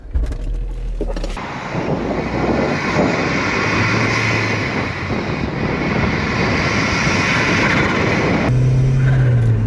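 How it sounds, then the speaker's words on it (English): A Vauxhall Zafira GSI with a Z20LET turbo engine pulls away, giving a steady, loud, broadband engine and intake roar that fills the whole stretch without a break. "I've forgotten how cool a turbo car sounds, especially with this air filter"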